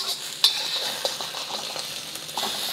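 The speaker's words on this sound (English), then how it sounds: "once the egg is almost cooked through, remove it" Utensils scrape and clink in a wok as a nearly cooked egg is lifted out for Hong Kong style baked seafood rice, with light sizzling oil underneath and a few sharp metallic taps.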